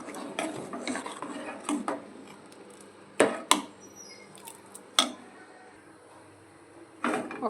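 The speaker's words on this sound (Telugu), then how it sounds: "పాలంతా దగ్గరికి అయ్యేంత వరకు కలుపుకుందాం." Milk being stirred in a pot for paramannam: scattered clinks and scrapes of a spoon against the metal pot, a few sharper knocks standing out over a quiet background.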